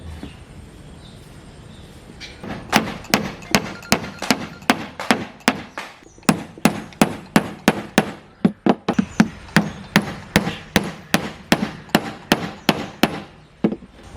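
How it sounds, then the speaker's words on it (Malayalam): Steady series of sharp, evenly spaced hammer blows driving nails to fix a clamp that holds a drill in place, for a homemade water pump; about twenty loud, close strikes following a quieter stretch. "അതിന് ഇതുപോലത്തെ ഒരു ക്ലാമ്പ് ആണി അടിച്ച് ഉറപ്പിക്കുക."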